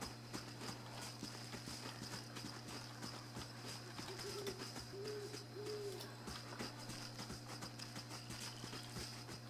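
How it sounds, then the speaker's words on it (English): Soft, steady clip-clop of horse hooves in a video game at a walking pace beneath a constant low hum, with a few faint hooting tones. "so this is where the horses are."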